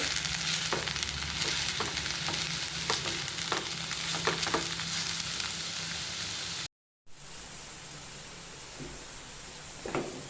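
Ukadiche modak filling of grated jaggery is sautéed in a pan, giving a continuous dense frying hiss punctuated by spatula scrapes and clicks, close; a brief silent cut leads to a quieter stretch of sizzling.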